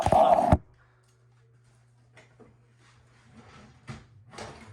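Bedroom drawers are opened and searched during a room tour. A sharp, loud opening clatter comes first, then a steady low hum with faint scattered rustles and small knocks as items are moved around.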